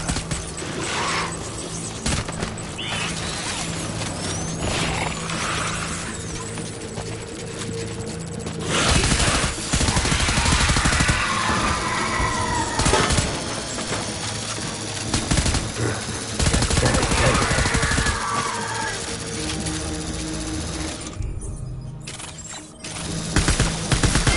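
Gunfire in the Death Stranding game: repeated bursts of shots and rattling automatic fire over a noisy background, heaviest in the middle section, continuing for over twenty seconds.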